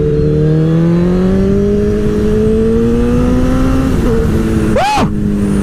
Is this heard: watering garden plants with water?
no